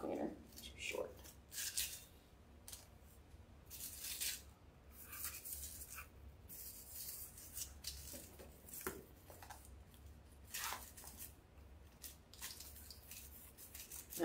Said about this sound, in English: Cut my pipe cleaner, too short.